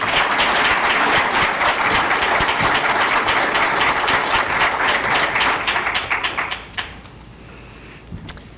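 An audience at a military Hall of Heroes induction ceremony claps to welcome a speaker, with dense, loud, sustained applause that thins into a few scattered claps and fades out near the end.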